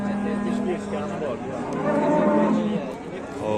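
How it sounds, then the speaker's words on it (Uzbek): A cow of a Russian breed lets out drawn-out moos close by, one long low call and then another, while people talk in the background. "Rossiyskiy poroda sigirimiz"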